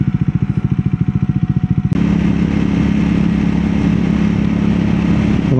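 A Triumph Scrambler 400 X motorcycle engine runs while riding, first a pulsing, throbbing single-cylinder beat, then a sudden shift into a steady, loud, sustained drone with strong low rumble and wind-like roar.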